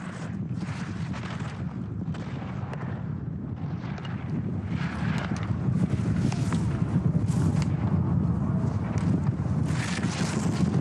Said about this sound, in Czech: slyšíte ty poryvy větru které foukají na sjezdovku v Aspenu